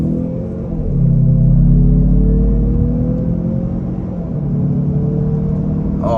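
A 2024 Mazda CX-30 Carbon Turbo accelerating on a highway, with a loud, close engine drone that swells and climbs in pitch, then eases, under steady road rumble and no talking.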